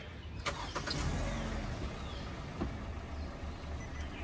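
A 2017 Hyundai Tucson engine starts with a brief crank and catches into a steady, muffled idle, fairly close and moderately loud, no talk over it.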